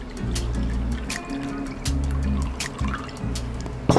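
Cold brew coffee concentrate pours into a cup, a steady trickling fill with small splashes and drips, close by and alone.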